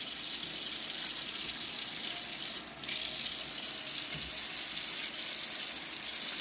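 Kitchen tap running steadily as raw chicken is washed under it; a continuous close, fairly loud gush of water with a brief dip partway through, no talking.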